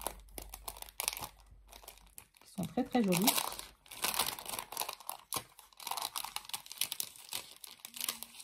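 Decorative papers, one a vintage shabby-style sheet with small flowers, crinkle and rustle in close handling, with bursts of crumpling and tearing-like crackle under someone speaking in French.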